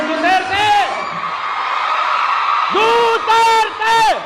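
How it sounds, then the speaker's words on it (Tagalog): A crowd at a Duterte political rally shouting his name in loud, repeated group chants, two bursts separated by a steady roar of voices. "Tingnan natin kung malakas ang sigaw niyong Duterte!"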